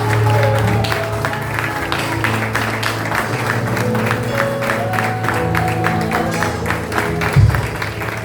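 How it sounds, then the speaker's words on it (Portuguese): Congregation applauding during a church service, steady clapping with crowd noise throughout, mixed with sustained tones and voices, and a brief louder thump near the end. "Você pode aplaudir o Senhor."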